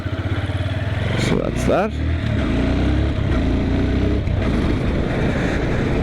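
Single-cylinder 2007 Honda FTR 223 motorcycle running steadily, engine note dipping around a front-brake-only stop from 50 km/h then picking up again, close and loud, with someone talking over it.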